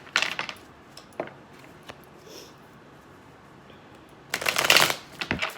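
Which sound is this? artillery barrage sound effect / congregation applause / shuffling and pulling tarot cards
shuffling and pulling tarot cards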